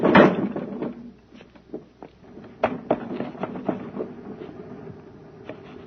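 A door being pushed open in an old radio drama, with an initial loud creak followed by a scatter of knocks and clunks from the door and its fittings, close and without talk.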